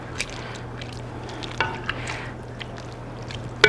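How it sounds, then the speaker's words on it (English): Cooked, drained navy beans are stirred in a pan, giving soft wet squishes and light scrapes over a low steady hum, with a sharper clink near the end. "Give it a stir."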